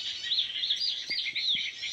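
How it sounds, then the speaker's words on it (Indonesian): High, thin chirps of white-eye (pleci) birds flutter through a nest area outdoors, a steady overlapping twitter at moderate distance with a few faint low knocks beneath. "Emang sarangnya burung pleci sini"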